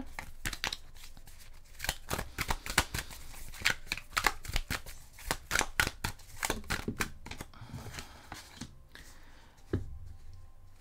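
Tarot cards are shuffled by hand in quick riffling bursts and soft slaps, close and fairly quiet, with short pauses between runs and a final few taps.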